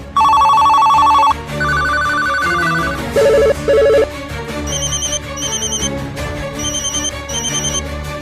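A mobile phone ringtone plays loudly in a village, a bright electronic melody of repeating high tones in bursts over a steady musical backing.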